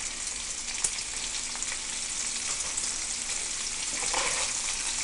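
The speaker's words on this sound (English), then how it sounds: "your goal over here is you want to brown the meat on all sides" Chunks of beef stew meat, such as bottom round or London broil, brown in a hot pot with a steady, dense sizzle and crackle throughout, a brief clatter of stirring near the start, no voices.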